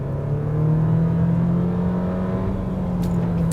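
A 2016 Nissan Sentra engine pulls steadily under acceleration, its drone rising gently in pitch over a few seconds, loud and close with no talking.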